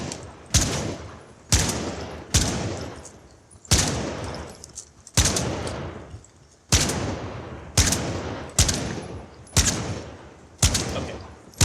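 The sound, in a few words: gunfire in a video game, shooting controlled by brain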